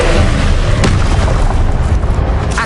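A Confringo blasting spell explodes in the video game Hogwarts Legacy, a loud, sustained booming blast with a sharp crack near the start, heavy low rumble throughout.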